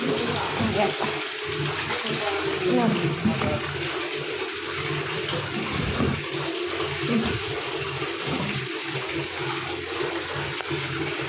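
Water gushes and sloshes continuously as clothes are rinsed and squeezed, with a voice speaking over the splashing.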